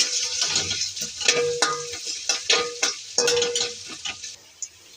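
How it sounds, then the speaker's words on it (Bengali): Onion fries in hot oil in a wok, with close sizzling broken by repeated scraping and clattering strokes of a utensil stirring against the pan. "তেল গরম হয়ে গেছে, এখন পেঁয়াজটা ছেড়ে দেব।"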